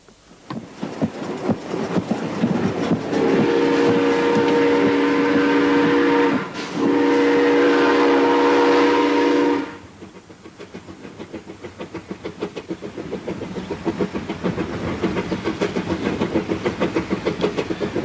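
Steam train running with a long, loud whistle blast that cuts off briefly and resumes, over a steady rhythmic chuffing and rattle of the moving train.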